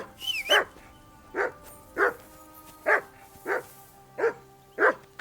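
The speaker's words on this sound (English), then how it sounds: "That barking was a pain in the..." In the video game Kingdom Come: Deliverance 2, a dog barks repeatedly, seven sharp woofs spaced roughly every half to one second, close and clear over a quiet background.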